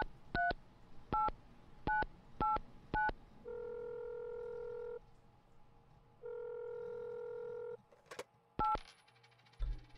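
Telephone keypad in the Mon Bazou driving game being dialed: five short beeping tones, then two long ringback tones, followed by a clunk and a couple more brief beeps.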